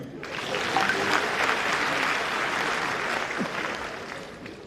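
An audience at a political gathering breaks into broad clapping that swells quickly, holds as a dense, even patter and then eases slightly, heard fairly near with no clear talk over it.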